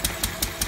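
A Lister D stationary engine runs with four evenly spaced, sharp chuffs and knocks in under a second, close and fairly loud over a constant low mechanical rumble.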